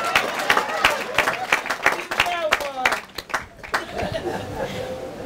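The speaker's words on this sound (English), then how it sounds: "That was a clap moment." Wedding guests clap in sharp, distinct bursts that rise and fall, mixed with chuckles and chatter in the room.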